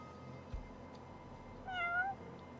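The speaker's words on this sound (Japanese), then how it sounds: "あ、猫ちゃん、車の上にいた。" A cat meows once in the Yakuza-series game Judgment (Judge Eyes), a short rising-falling cry over quiet game ambience with a faint thump just before it.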